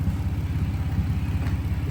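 A $500 car's engine idles roughly and steadily, a low race-car-like pulsing rumble that stays close and loud throughout with no voices.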